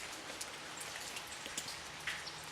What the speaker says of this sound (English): With this rain that we're getting right now and the cooler weather